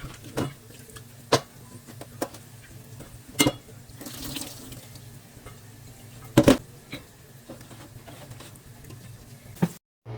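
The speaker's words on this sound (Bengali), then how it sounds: "এই যে দেখেন আমি নর্মাল পানি দিয়েই শুটকিটা ধুয়ে নিচ্ছি" Dried fish and jackfruit seeds are rinsed in plain water in a kitchen, with a steady running trickle broken by several sharp knocks and clatters of pieces and a vessel.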